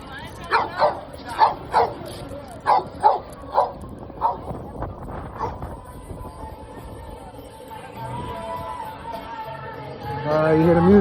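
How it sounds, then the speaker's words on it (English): A dog barks in a rhythmic series of sharp, fairly close woofs across a busy street, then the barking stops and city background noise and faint music take over, with a rising tone near the end. "There's a dog over here."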